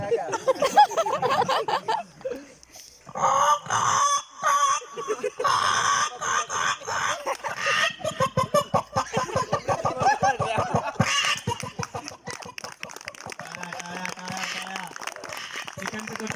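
A man imitates clucking chickens, rapid throaty bursts and squawks crowded with his mimicking voice, delivered close and fairly loud for over fifteen seconds with a few brief pauses.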